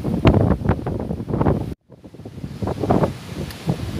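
Wind buffets a microphone outdoors, making a loud, gusting low rumble that cuts out briefly in the middle before the blustery noise returns.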